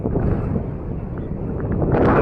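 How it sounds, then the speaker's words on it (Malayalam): Strong wind buffets the microphone high on a four-kilometre viaduct bridge on NH66 at Valanchery, Kerala. The loud, steady, rumbling gusts continue throughout and swell slightly toward the end. "നല്ല കാറ്റുണ്ട് കാറ്റിൻ്റെ സൗണ്ടൊക്കെ ചിലപ്പോൾ അതിൽ അടിക്കാൻ സാധ്യതയുണ്ട്"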